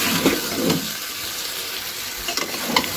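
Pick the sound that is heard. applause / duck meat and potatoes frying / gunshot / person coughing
duck meat and potatoes frying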